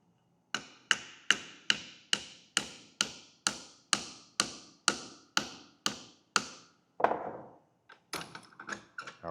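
A nail is hammered into a wooden birdhouse built from 5/8-inch stock, with about a dozen sharp, evenly spaced hammer taps, then a duller knock and a quick cluster of lighter taps. The blows are close and loud, with no talk.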